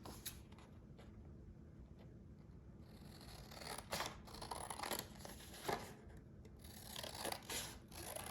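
Scissors cut a square out of a greeting card, producing quiet snipping and paper rustles that grow busier in the second half, close and faint with no talk.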